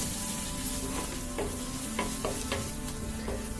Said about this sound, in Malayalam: ഇതിലേക്ക് നമ്മൾ നേരത്തെ എടുത്തു വെച്ചാൽ ചെറിയൊരു തക്കാളി കട്ട് ചെയ്ത് ചേർത്ത് കൊടുക്കാം.